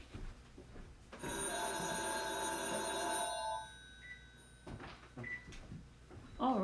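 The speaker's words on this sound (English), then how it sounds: "All right, and the phone was ringing." A telephone bell rings in a quiet room during a linear algebra lecture, one sustained ring of about two seconds, then it stops, leaving faint bumps and shuffling.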